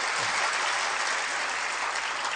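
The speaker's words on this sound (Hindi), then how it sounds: "अब जोर से ताली बजा करके यशवंत भाई को" An audience at the Brahma Kumaris Parivartan 5th annual day event applauds, a dense, even wash of many hands clapping at once, sustained and fairly loud with no voices over it.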